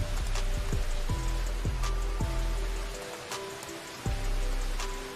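Rain falling in a Hindi-dubbed Naruto anime scene, a dense steady patter with repeated sharp drip-like hits and low thuds, dipping briefly before resuming.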